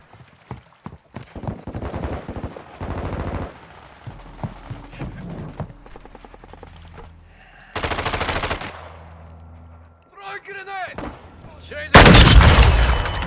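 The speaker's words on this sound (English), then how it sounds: "Shunkka, shoot them!" Gunfire in Call of Duty: Modern Warfare II comes as loud, rapid automatic bursts and single shots, close and punchy, with game voices and radio chatter between the volleys and a heavy burst at the end.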